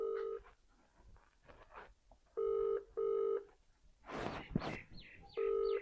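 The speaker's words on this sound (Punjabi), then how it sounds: "ਪਤਾ ਨਹੀਂ ਬੈਲ ਤੇ ਜਾਣ ਦੀ ਆ ਕਿ ਜਾਣ ਕੇ ਨਹੀਂ ਚੁੱਕਣ ਦੇ" A phone call rings out unanswered, repeated bursts of electronic ringback tone in steady pairs, with faint rustling and a brief loud noise in between.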